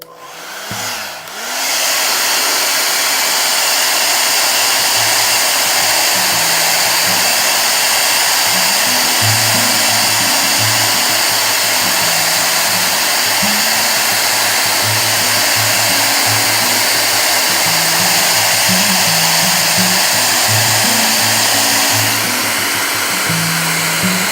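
Heat gun or hair dryer warming TALON grips on a Springfield XD-S .45 ACP pistol, switching on and then blowing as a loud, steady whooshing drone for over twenty seconds without talk.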